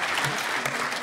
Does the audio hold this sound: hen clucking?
no